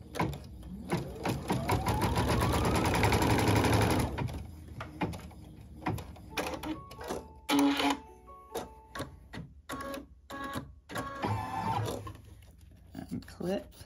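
A sewing machine runs steadily for about four seconds, stitching a foundation-pieced flying geese quilt block in an embroidery hoop, followed by scattered clicks, taps and handling noises of the fabric and machine.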